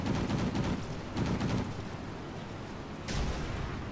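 Aircraft machine guns in the World of Warplanes video game, fired by a pursuing fighter with weapons running hot, come in dense, loud rattling bursts: two long strings of rapid fire, then a short final burst.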